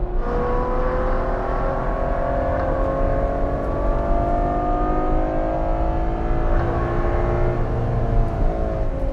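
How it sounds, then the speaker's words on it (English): A 2017 Ferrari V12 engine revs and holds a high, smooth howl with sweeping pitch changes, loud and steady throughout with no talk. "You're welcome for the sounds of Ferrari V12 to go with your nice fall day in the valley."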